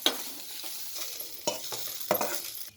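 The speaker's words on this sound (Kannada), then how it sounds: "ಇದು ಕೂಡ ಚೆನ್ನಾಗಿ ಫ್ರೈ ಮಾಡ್ಕೋಬೇಕು." Ginger frying in oil for a chutney, a steady close sizzle with several stirring strokes of a spoon through the pan, no one talking.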